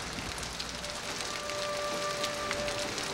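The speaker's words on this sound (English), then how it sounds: "Rain sounds like a river." Steady, dense rainfall pours down heavily, a constant broadband hiss with a faint thin tone briefly running underneath; no voices.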